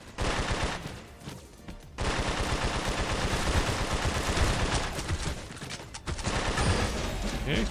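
A light machine gun in the shooter game Skillshot City fires long, loud sustained bursts, a dense rattle broken by two short pauses before the fire resumes.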